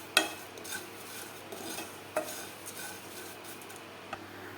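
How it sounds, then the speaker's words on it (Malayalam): Fried flattened rice and banana get scooped from a pan into a bowl, with a few sharp metallic scrapes and clinks of a spoon against cookware spaced over a faint background hiss, close and otherwise quiet. "ഇനി നമുക്കിത് ഒരു പാത്രത്തിലേക്ക് മാറ്റി കൊടുക്കാം"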